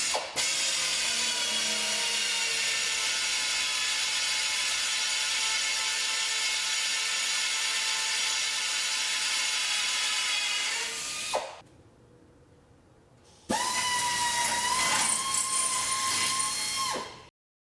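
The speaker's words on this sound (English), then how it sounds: "I'm going to put a number 30 pilot through here, and then I'll drill it up with the other angle drill" A pneumatic angle drill whirs steadily, boring a number 30 pilot hole through an aircraft part, then halts briefly and spins up again at a high, constant pitch, close and loud, with no talk.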